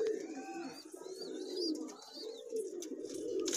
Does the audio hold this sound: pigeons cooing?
yes